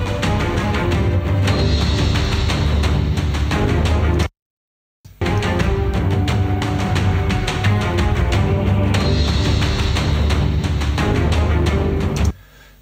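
Two looping game music tracks in FMOD cut abruptly from one to the other, with a sudden dead gap of silence partway through before the second loop bursts back in at full level, then an abrupt drop near the end.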